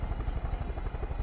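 A helicopter in Far Cry 5 drones close by with a low, rapid thumping rotor pulse and a steady engine whine, running continuously through the short stretch.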